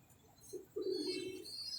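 A pigeon in a pigeon-keeping club coos softly, giving a brief low murmur followed by a longer throaty coo, close by against a quiet background with faint high chirps.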